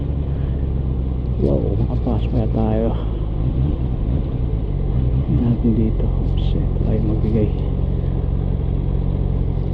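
Road traffic rumbles steadily around a motorcycle on a sunny morning ride through Vienna, Austria, with a low engine drone running throughout as someone talks over it.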